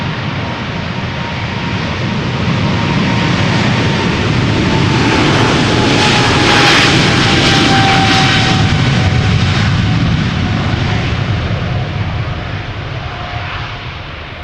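KLM Boeing 777-300 jet on its takeoff roll at Amsterdam Schiphol, a loud, close, continuous engine roar that builds and peaks mid-clip, then eases slightly as the aircraft climbs away; no talking.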